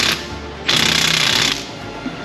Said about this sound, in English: I'm going to switch it out to the 3/8. Bigger gun.